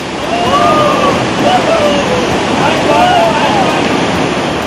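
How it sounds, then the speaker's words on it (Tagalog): Strong river current in Albay rushes with a steady, loud, broadband roar of churning water, continuous and close throughout. "Ang malakas na agos ng tubig sa ilog, ginagamit sa pinakabagong water sport dito."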